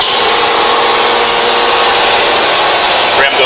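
An 1100-ton press runs loud and close, its ram cycling up and down as a dense, continuous mechanical roar with a brief shift near the end and no talking.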